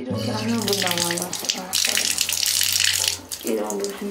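Water gushes steadily from a bathroom tap, a loud continuous rushing splash that swells in the middle, with someone talking over it.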